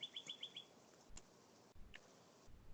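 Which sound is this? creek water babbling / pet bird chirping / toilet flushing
pet bird chirping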